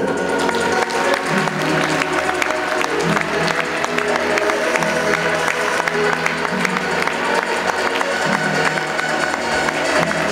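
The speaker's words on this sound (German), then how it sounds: "Ihr Applaus für Ruben Vilus" Crowd applause at a Borussia Düsseldorf table tennis team entry, dense sustained clapping and cheering filling the hall, loud and continuous with a rhythmic crackle running under it.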